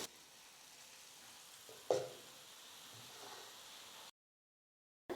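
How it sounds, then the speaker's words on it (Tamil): Gram flour batter frying as boondi in hot oil, a steady close sizzle with a brief louder splash near the middle, heard alone before a sudden cutoff. "நான் கரைச்சி வச்சுருந்த எல்லா கடலை மாவையுமே வந்து பார்த்தீங்கன்னா எண்ணெயில் போட்டு பூந்தி செஞ்சு எடுத்தாச்சு"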